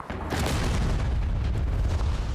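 A deep, rumbling explosion in PUBG on the Erangel map booms out and keeps roaring with low, dense energy for a couple of seconds, loud and close.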